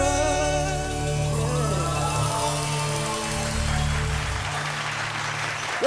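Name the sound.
audience applause after a singing battle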